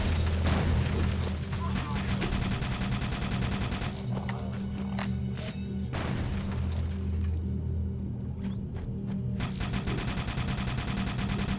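Needler fire in the Halo CE video game, rapid dense bursts of shots and crackling impacts over a steady low game drone, loud and continuous with short pauses.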